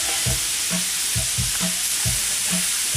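Mushrooms hitting a hot grill platter beside onions, a close steady sizzle with repeated stirring scrapes and taps at a regular beat.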